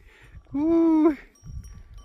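A single clear sheep bleat rises sharply in the middle, fairly close, with faint murmuring voices and rustling before and after.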